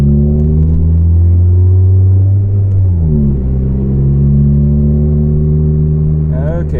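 A Volvo 440 with a massive exhaust leak drives along, its engine a loud, deep, continuous rumble that shifts pitch slightly as it changes speed.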